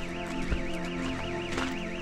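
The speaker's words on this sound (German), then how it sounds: "Das Alarmsignal kam übrigens vom Zugangsportal." Electronic alarm signal sounding from the access portal at a Black Forest waterfall, a wavering warbling tone that rises and falls steadily over a low hum for about two seconds.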